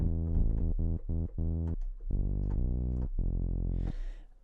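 A synthesizer plays a series of short and sustained bass notes with a low filter cutoff, giving a mellow, muffled tone with little buzz, ending in a brief noisy burst.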